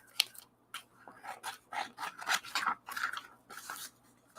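Scissors handled on a desk: scattered rubbing, scraping and small metallic snips in uneven bursts, close by and fairly quiet.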